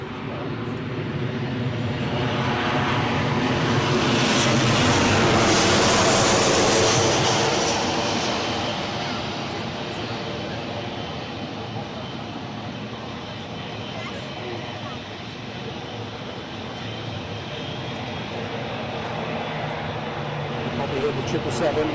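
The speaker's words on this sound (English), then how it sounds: "Probably hear the 777 is picking up the revs." A Boeing 777 airliner at Newcastle airport spools up its engines, a broad jet roar that swells to a peak and then settles into a steady, distant whine, heard under occasional talk.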